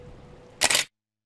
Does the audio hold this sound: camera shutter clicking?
yes